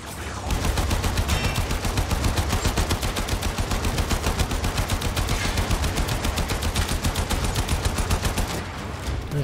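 Rapid automatic gunfire from a Warframe weapon, the Fragor, cutting down enemies: a dense, loud, steady stream of shots lasting about nine seconds with no pauses.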